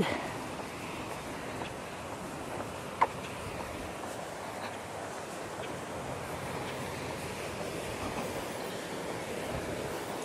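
Steady flowing water rushes on a village walking path in The Villages, a continuous broadband wash that stays fairly even and moderately loud throughout, with one brief sharp click partway through.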